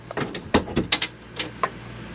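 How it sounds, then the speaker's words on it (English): A boat's cabin door, set in a plywood bulkhead, opens and closes with a series of light wooden knocks, clicks and rattles, close and fairly quiet, with no talking. "Door makes a little bit of noise"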